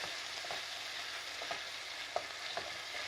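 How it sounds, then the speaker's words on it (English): A whole tub of Philadelphia cream cheese sizzles gently in a hot pan while it is stirred and moved around, with soft scraping strokes recurring every second or so over a steady low fry. "we just introduce it to the pan and then sort of move it around a bit"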